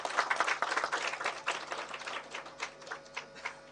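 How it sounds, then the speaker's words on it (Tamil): A modest round of hand clapping from an audience at a Tamil film event, sparse and uneven with distinct individual claps, fading toward the end over a faint electrical hum. "அதுக்கு எல்லாருமே வந்து ஒரு கைத்தட்டல் கொடுத்துருவோம்."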